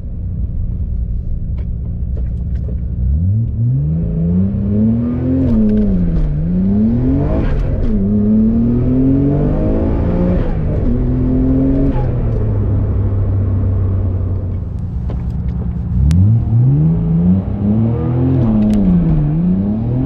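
A 485 bhp Nissan R32 GTR accelerates hard on a 0-60 run. The engine sweeps up through the revs, drops at each gear change, rises again and holds loud and close for the whole stretch.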